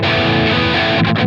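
An electric guitar played through a Helix Native Placater Dirty amp model into a Greenback 25 cabinet rings out as a loud, distorted sustained chord, followed by a couple of quick picked accents near the end.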